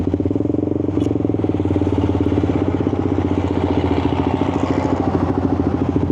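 A Suzuki GSX 150 motorcycle engine running steadily nearby, with a loud, even mechanical throb and a slight rattle and no talking. The pitch holds fairly constant rather than climbing.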